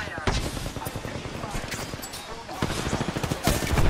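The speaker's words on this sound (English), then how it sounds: "I'm under fire." Rapid video-game gunfire, dense bursts of automatic shots crackling continuously and loudly, with a voice briefly underneath.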